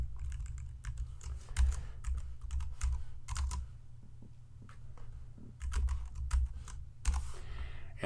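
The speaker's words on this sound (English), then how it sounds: "Man, I cannot type this morning." Fast, uneven typing on a computer keyboard, close and clear, with bursts of key clatter and short pauses over a low background hum, no voices.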